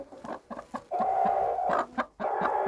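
Mixed-breed laying hens cluck near the listener while their eggs are gathered from a coop, with short choppy clucks breaking into a drawn-out, complaining cackle, loud and close, with no talk.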